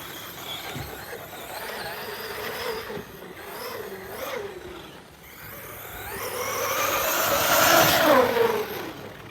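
A radio-controlled car with a 3D-printed wing mount and front bumper whines around a dirt track, its electric motor rising and falling as it accelerates, fading, then surging louder nearby, with faint talk behind.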